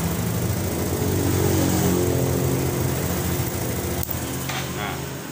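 A motorcycle engine runs steadily and close by during a DC ignition-circuit check, with a sharp click near the end and the running sound thinning slightly afterward.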